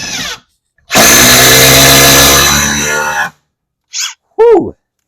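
Hercules 20V cordless impact driver sinking a large lag bolt, a loud steady hammering whir lasting over two seconds, followed by short trigger bursts and a brief exclamation from a nearby voice.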